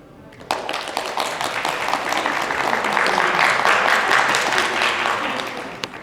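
An audience claps warmly for dancers at the Impulstar dance final, with dense applause swelling after a sudden start and scattered sharp claps standing out.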